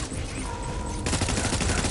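Dense gunfire rattles continuously in a Death Stranding firefight, loud and close, with a sustained fusillade that intensifies partway through.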